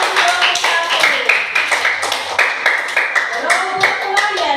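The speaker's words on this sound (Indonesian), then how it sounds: "tepuk tangan dulu untuk kelompok 1" A class clapping for a student group, scattered and uneven hand claps with a few louder sharp hits, mixed with chatter and raised voices among the students.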